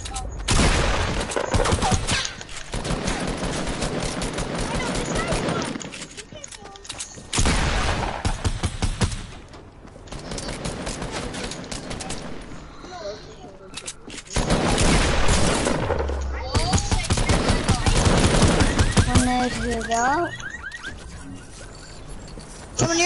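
Bursts of gunfire from a PS4 shooter video game, loud sustained volleys with short pauses between them, mixed with game sounds and effects.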